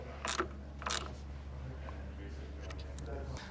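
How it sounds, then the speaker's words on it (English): Hand-tightening a T30 Torx fastener on an Audi 2.0T engine during timing chain work gives two short metallic ratcheting bursts near the start, then a steady low mechanical hum with faint clicks. "Now we're going to tighten the T30 by hand."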